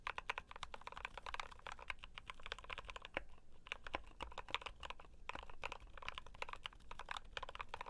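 Typing on a GMMK Pro mechanical keyboard, fast continuous clacky keystrokes recorded very close, with a brief pause midway and no talking.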